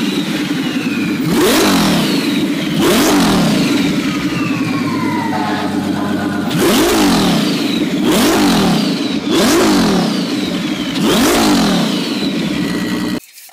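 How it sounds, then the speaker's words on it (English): A twin turbo Ferrari engine is revved hard again and again, each loud, close blip rising and falling in pitch, with a brief lull midway before more bursts follow. "Revving my twin turbo Ferrari."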